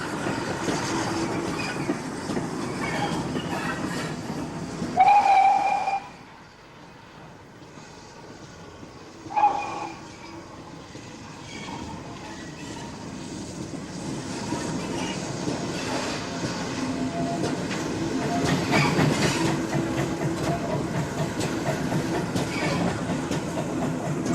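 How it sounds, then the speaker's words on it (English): A preserved GWR 1400 class tank locomotive, number 1466, runs on a Great Western branch line at Didcot, giving a steady rumbling roll with rail clatter, rising and falling as it passes, plus a couple of short sharper bursts. "A number of these little engines have been preserved, including 1466 seen at Didcot"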